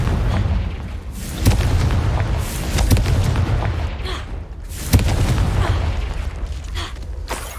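Fiery blasting-spell explosions in a video game, several loud booming bursts at irregular intervals over a constant low rumble, with no talking.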